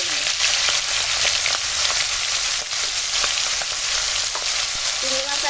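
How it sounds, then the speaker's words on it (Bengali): Shrimp seasoned with salt and turmeric frying in hot oil in a wok, a dense, steady crackling sizzle that runs unbroken throughout, close and loud, with a few sharper pops and stirring scrapes, no voices. "কড়াই দিয়েছি তেল, তো চলে এখন চিংড়ি মাছ ভেজে নিই।"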